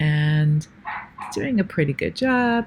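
A pet dog barks and yips indoors, several sharp bow-wow barks near the start and again at the end, interleaved with someone talking.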